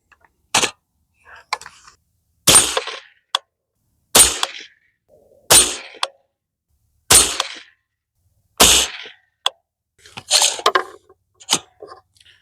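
Sharp, close gunshots from a Bear Creek Arsenal .22 Magnum rifle firing Federal Premium Speer TNT 30-grain hollow points, about seven loud single reports spaced roughly one to two seconds apart, with quieter handling noises between them.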